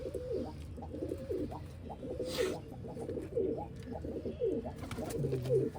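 Pigeons coo in a steady, overlapping rhythm of low, soft, throaty calls from several birds close by, with no talking.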